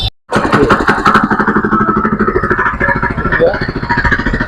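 Kisan Choice KC1000 7HP power weeder engine revving loudly and close, a steady throbbing drone with rattling clatter that holds after a brief gap at the start.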